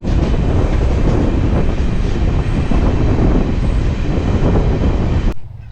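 A passenger train running from Sealdah to NJP (New Jalpaiguri) makes a loud, steady rumble and clatter throughout that cuts off abruptly near the end.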